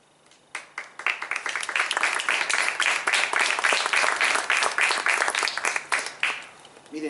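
An audience at a poetry book presentation in a museum breaks into applause that rises quickly, holds as a dense, full round of clapping for several seconds, then tapers off.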